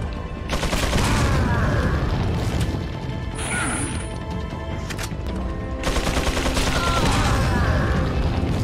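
An enemy's chain gun in Resident Evil 4 fires long, loud, rapid bursts of heavy gunfire with crashing impacts, breaking off briefly for a couple of seconds before another sustained burst resumes, with no voices over it.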